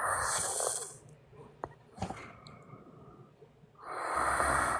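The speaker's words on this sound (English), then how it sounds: "Is it somebody snoring?" Slow, rough snoring breaths, a long rasping inhale at the start and another at the end, with quieter snorts and shuffles between them, close by.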